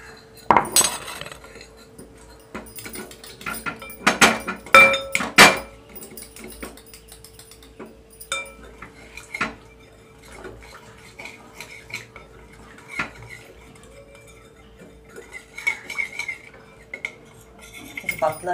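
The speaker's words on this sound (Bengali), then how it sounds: "এখন জল মিশিয়ে আমি একটা ব্যাটার তৈরি করবো।" A spoon clatters and scrapes around a bowl while pakora batter is mixed with water: a burst of sharp metallic clinks early on, then a lighter, irregular stirring and tapping that continues close by over a faint hum.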